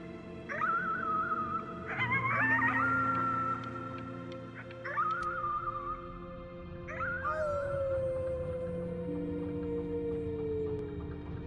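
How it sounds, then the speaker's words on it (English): Howling at the moon in the video game Before Your Eyes: several drawn-out, wavering howls rising and falling in pitch, the last one sliding slowly downward, over a sustained musical drone. "You howled at the moon at the top of your lungs."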